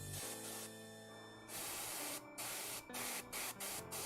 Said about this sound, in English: I'm going to spray my white primer on it and see if it looks speckly